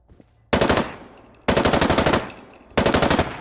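Three separate bursts of rapid semi-automatic SIG MCX rifle fire in Fallout 4 crack out loudly, each lasting under a second, with short quiet gaps between them.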